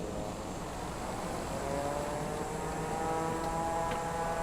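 Jet engine roar from an airliner in Microsoft Flight Simulator, reverse thrust spooling up on landing, a loud steady broadband rumble with a rising whine that holds throughout.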